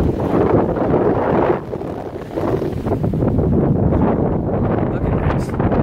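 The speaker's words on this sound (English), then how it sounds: "It's windy, so I gotta hold my phone." Wind at the top of a water tank tower roars and buffets the microphone loudly, easing briefly partway through before surging again.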